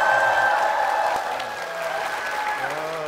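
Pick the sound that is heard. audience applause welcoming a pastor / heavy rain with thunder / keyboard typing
audience applause welcoming a pastor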